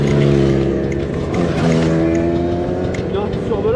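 A car engine that has lost compression revs unevenly, producing a rough, pulsing drone whose pitch rises and falls. Voices talk over the engine throughout.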